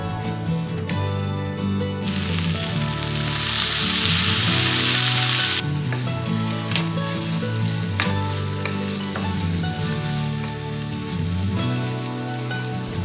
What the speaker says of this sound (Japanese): フライパンにバターを熱し、きのこ、さつまいもを加え中火で炒めていきます。